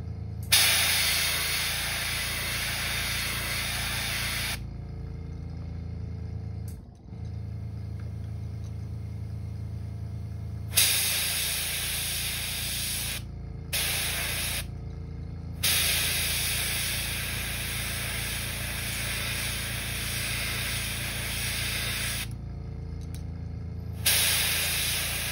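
An airbrush sprays paint onto a custom crankbait lure in long steady hissing bursts with short pauses between them, close and fairly loud, with no talk.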